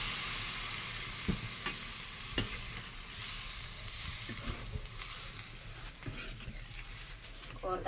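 Tempering for cauliflower curry sizzles steadily in a pan over a wood-fired stove, a continuous crackling hiss broken by a few sharp spits and pops, close and fairly loud with no talk.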